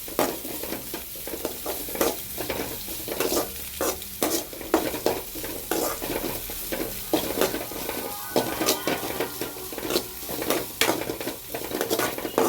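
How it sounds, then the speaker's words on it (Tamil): Grated carrot and cabbage sizzle and fry in a pan, with repeated scraping and stirring strokes of a utensil against metal, steady and close, no talking. "துருவி வச்சிருக்க கேரட்டு, முட்டைக்கோஸ் நல்லா வதக்கிக்கலாம்."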